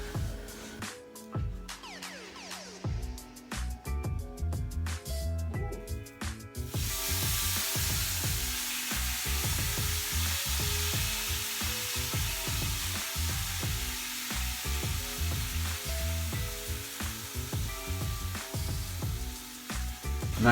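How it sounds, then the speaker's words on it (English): Beef frying in a hot pan, a steady close sizzle and hiss with irregular crackles and pops, growing fuller after the first few seconds, with no voices. "I like that sound. Yeah. Sizzling."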